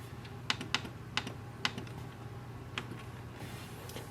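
Keys pressed on a Canon Pixma G3460 printer's control panel to enter a Wi-Fi password: a handful of soft, separate clicks at an uneven pace over a steady low hum, close and fairly quiet.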